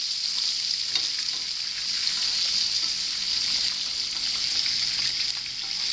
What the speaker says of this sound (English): The butter and oil, you just baste it.